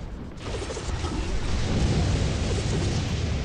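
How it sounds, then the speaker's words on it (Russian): Lightning strike in the video game Tower Conquest: a sudden loud burst that swells into a dense crackling rumble and holds for a few seconds. "Отлично, попал он все-таки под молнию."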